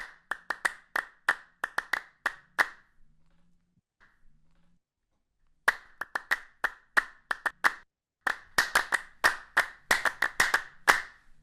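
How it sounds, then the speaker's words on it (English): Sharp hand claps in quick irregular bursts, loud and close, with a short quiet pause before the clapping resumes. "that is literally, yeah, just you clapping"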